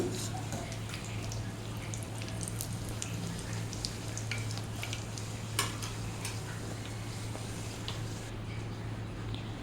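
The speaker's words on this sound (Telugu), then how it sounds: "ఇలాగే అన్నిటినీ వేయించుకోవాలి" Poori and parota frying in oil, a constant dense bubbling sizzle with scattered crackles and pops over a low steady hum, heard without talk.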